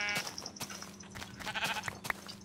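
Sheep bleating in the Minecraft video game, several short repeated bleats in quick succession, fairly quiet, mixed with small game clicks and thumps.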